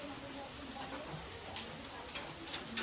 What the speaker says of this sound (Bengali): দেখো বাইরে বৃষ্টি আর থামে না সারা দিন বৃষ্টি হচ্ছে